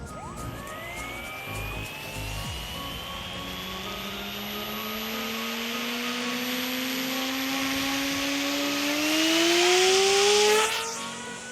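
A fixed-wing drone's small propeller motor spins up for launch and drones steadily, its pitch slowly rising as it revs harder, then cuts off abruptly near the end.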